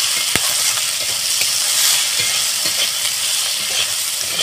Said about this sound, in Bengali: পেঁয়াজের মধ্যে অল্প সামান্য লবণ দিয়ে দিলাম, দিয়ে পেঁয়াজটাকে আমি একটু বাদামি করে ভেজে নেব।